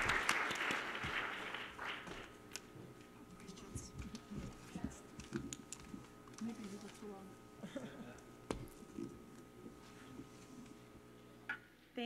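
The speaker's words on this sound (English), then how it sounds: "I give one big more round of applause to these wonderful women" Applause from an audience at the close of a morning session on transparency and access to information for women, a steady crowd clapping that starts strong and thins into scattered claps with some voices mixed in.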